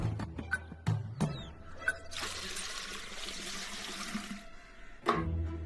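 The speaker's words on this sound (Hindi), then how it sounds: "अभी पहले पानी निकालो वेल में से" Water drawn from a well and poured, several close knocks and clunks of a bucket, then a steady splashing rush of water for a few seconds before a final thud.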